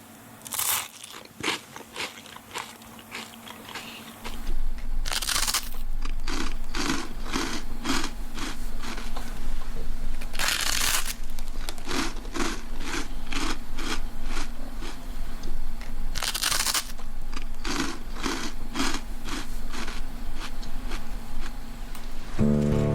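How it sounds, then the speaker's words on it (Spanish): Crunchy food is bitten and chewed up close, a rapid regular train of dry crackling crunches repeating for many seconds, with a few louder bites breaking into the rhythm and no talking. "El sonido que los humanos y animales hacen al masticar"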